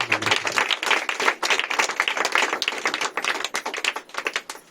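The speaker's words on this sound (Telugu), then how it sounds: "గట్టిగా చప్పట్లు కొడుతూ ఉన్నప్పుడు గట్టిగా చప్పట్లు కొడుతూ" Loud, dense clapping from a church congregation during praise worship, many hands beating in a fast, continuous, slightly uneven rhythm with no voices heard.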